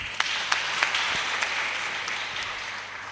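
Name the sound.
church congregation applause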